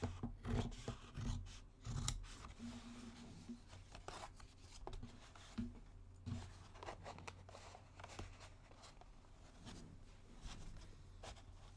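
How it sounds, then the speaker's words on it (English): Good fabric scissors snip through material in a quiet, close series of crisp cuts and rasping slides while a backpack is being repaired, with no talking. "now I'll use the good fabric scissors"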